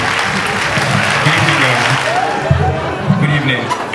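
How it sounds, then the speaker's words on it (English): A comedy club audience gives a round of applause for a stand-up comedian, a steady, dense clapping that fills the room for several seconds. "Please a round of applause for Funny."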